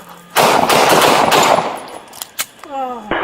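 A police officer fires a rapid burst of gunshots at a man charging with a knife, loud and close, the shots running together briefly before a couple of trailing bangs and a shouted voice.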